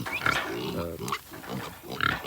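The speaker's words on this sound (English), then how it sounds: "I'm gonna get this big pig a little bit of water" A big pig on a grazing farm grunts and snorts up close in a few rough, throaty bursts, loud and alone.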